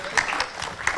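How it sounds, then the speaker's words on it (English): Audience applause at a book launch during a business leadership event: a brief, dense burst of many hands clapping together, steady and fairly close, with no voices over it. "A round of applause for this amazing book that we are presenting to all of you."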